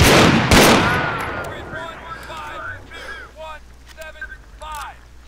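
In the military shooter Arma 3, a loud close burst of gunfire opens, then echoes and decays into a quieter stretch as scattered distant shots and chirpy whizzing sounds follow, with no talk heard.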